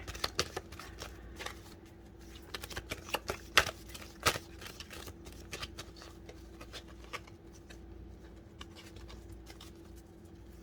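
Tarot cards being shuffled by hand, a quiet, close run of soft riffling taps and flicks, irregular in rhythm with a few sharper snaps, heard alone without talk.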